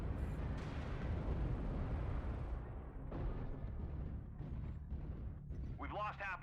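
Missile explosions in MechWarrior Online, dense rumbling blasts and booms rolling continuously under a synthetic cockpit warning voice, the bombardment thinning out toward the end.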